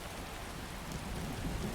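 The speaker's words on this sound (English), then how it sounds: "I am surprised at how much it is raining for how much snow there is." Steady rain in the Skyrim video game, a dense even hiss of falling rain with a low rumble beneath it, continuous and without speech.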